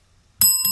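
Two bright metallic dings ring out in quick succession at a Memorial Day memorial for fallen soldiers, loud, close and short, with no talking.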